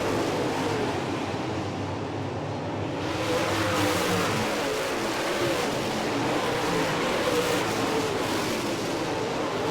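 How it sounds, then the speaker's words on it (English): Race cars roar around the Merritt Speedway oval, a dense continuous engine drone that swells and fades as the field passes, distant and steady with no voices. "But we got cars working high, working low, trying to make their way towards the front of the field."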